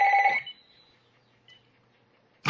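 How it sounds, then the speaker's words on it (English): A phone ringing indoors, with a short electronic ring burst at the start and another beginning just before the end, separated by near silence. "That's my phone."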